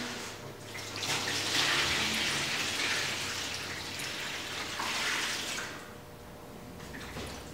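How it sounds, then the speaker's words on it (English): Water poured from a pitcher into a bucket for soaking intaglio printing paper: a steady, splashing gush that runs for about five seconds, then eases into a quieter trickle. "use the pitcher, go over here and dump it in."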